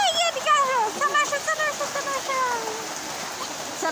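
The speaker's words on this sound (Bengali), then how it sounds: "বৃষ্টি হচ্ছে" Steady rain falls in a continuous hiss and patter, with a voice or singing over the top throughout.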